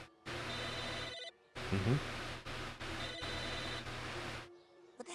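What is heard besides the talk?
phone ringing in the video game Psychonauts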